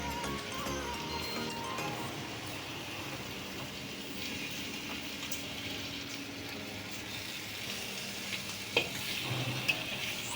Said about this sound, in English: Slowly stir.